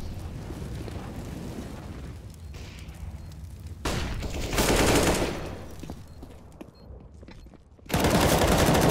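Rapid gunfire from a competitive shooter video game match, with bursts of automatic fire and loud cracks coming in waves, the densest volleys near the middle and at the very end.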